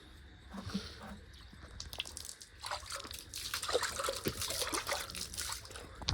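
Tap water trickles and splashes steadily as hands are washed at a home sink, a continuous close running stream with small splatters and no talk.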